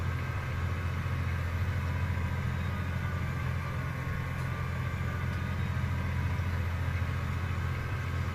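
Steady low tractor engine drone pulling a seeder in the Farming Simulator 17 video game, with continuous idling-like rumble at a constant level and no speech.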